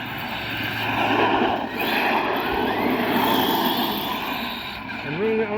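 A Redcat Rampage XB-E 1/5 scale electric RC car drives on a dusty street, giving a steady motor whine with rising and falling pitch as it runs, fairly close and continuous.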